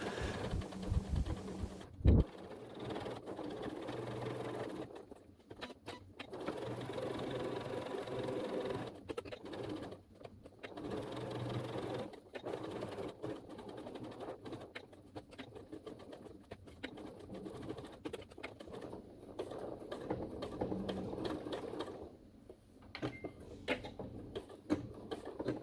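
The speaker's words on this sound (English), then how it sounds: "I'm going to sew all the way around the edge." A sewing machine runs a straight stitch around the edge of a felt sloth sleep mask, quiet steady whirring in bursts separated by short pauses, without any talking.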